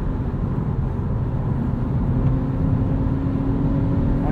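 A 2022 Honda Civic Sport Touring hatchback with the 1.5 turbo engine and manual gearbox pulls under acceleration, a steady, full low engine drone with road rumble heard from inside the cabin, continuous and even throughout.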